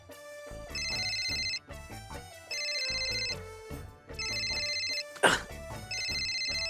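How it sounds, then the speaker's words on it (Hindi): A mobile phone ringtone plays a repeating electronic melody in bursts, with a brief sharp noise partway through. "आपका मोबाइल फोन है, उस पे किसी का फोन आ रहा है"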